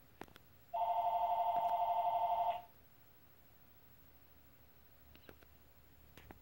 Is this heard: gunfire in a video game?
no